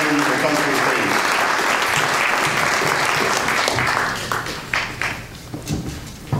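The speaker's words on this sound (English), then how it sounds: "give him a big round of applause" Audience applause at a university student recognition ceremony, a dense steady clapping from a crowd that holds for about four seconds, then thins and fades with scattered claps as a voice begins to speak.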